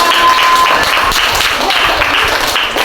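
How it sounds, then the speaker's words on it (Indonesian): A classroom group claps after finishing a presentation, dense, loud applause filling the short stretch with quick overlapping hand claps. "Tepuk tangan untuk kelompok kita."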